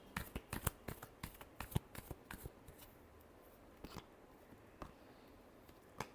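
Tarot cards shuffled close by, a quick burst of crisp riffling snaps that slows into sparse, separate flicks, soft overall and with no voice.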